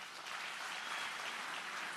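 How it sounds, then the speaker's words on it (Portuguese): Faint, steady applause from an audience at a church business gathering, a soft even patter of many hands heard at some distance with no voices. "Eu quero pedir uma salva de palmas para ele"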